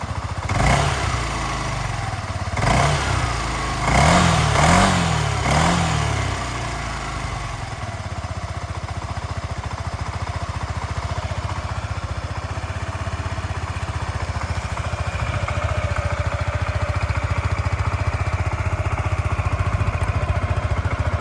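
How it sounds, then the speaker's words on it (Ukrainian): A small Yamaha Majesty S 155 scooter engine putters steadily, with a few throttle blips early on before settling into an even, continuous running drone. "Гарно працює двигунчик без зауважень."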